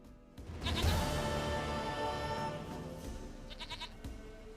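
A goat in The Witcher 3 bleats loudly and close, one long wavering bleat followed by a shorter call, over faint background ambience with no speech.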